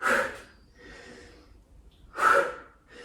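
Noisy, forceful exhales during a fast yoga HIIT workout come in two strong bursts, each trailed by softer breathy puffs, close and clear with no talk over them.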